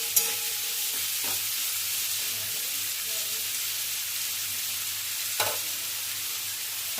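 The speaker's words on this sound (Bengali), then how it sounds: "ভালো করে ভাজছি, দেখতে পাচ্ছেন।" Steady sizzle of a little oil frying in a pan for a Bengali moong dal and raw papaya dish, with a couple of sharp stirring scrapes, broad and constant throughout with no talking.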